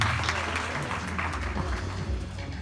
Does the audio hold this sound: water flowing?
no